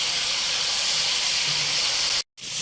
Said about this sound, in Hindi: हम यहाँ लहसुन अदरक को अच्छे से इस ऑयल में भून लेंगे